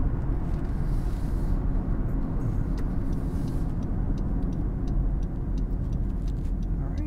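Continuous low road and engine rumble from inside a 2022 Honda CR-V Sport on the move, steady and even throughout with faint ticking above it and no voices.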